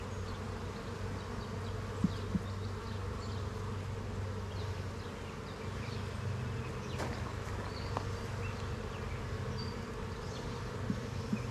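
Honeybees buzz in and around a nuc hive, a dense continuous drone close by with individual bees zipping past now and then and no voices.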